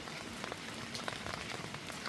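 Rain falls steadily at a home garden on an autumn day, a dense patter of drops hitting surfaces with scattered sharper splashes, continuous and fairly soft, with no voices.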